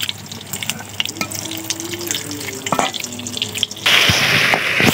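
Potatoes frying in oil in a home kitchen, a steady close sizzle with scattered stirring clatter that grows louder and denser near the end, with no talking.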